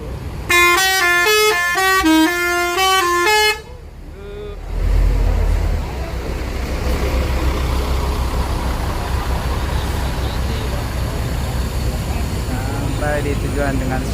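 A Telolet Basuri musical horn on a bus at Grogol bus terminal blares a loud, fast melody of repeating notes for about three seconds, then cuts to a heavy diesel rumble as the bus idles and pulls away.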